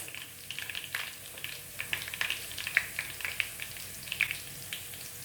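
Dried red chillies and curry leaves sizzling as they temper in hot oil for a prawn and drumstick curry, a soft close crackle with irregular sharp pops and spits.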